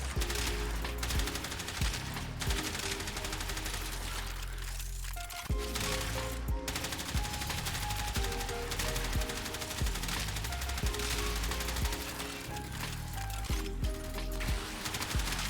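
Sustained automatic fire from the Rattleguts kitgun auto rifle in Warframe, rapid cracking shots in long continuous bursts with one brief pause, loud and close over game music.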